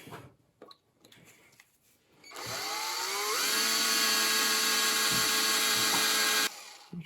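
A power drill bores a hole through metal during a junkyard Hemi engine swap on a 2005 Jeep Grand Cherokee, starting after faint knocks with a steady, loud, high whine that holds for about four seconds and then cuts off abruptly.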